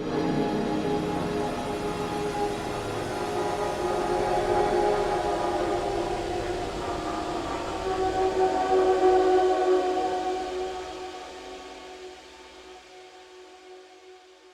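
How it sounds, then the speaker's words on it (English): A dark, dystopian synthesized atmosphere swells as a sustained layered drone with a grinding low rumble and wavering tones, loud and continuous before thinning and fading toward the end. "Now we have this very kind of dark, dystopian sounding atmosphere thing."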